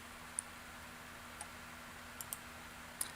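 A computer mouse clicks five times at uneven intervals, sharp and faint, over a quiet room hum with a steady low tone.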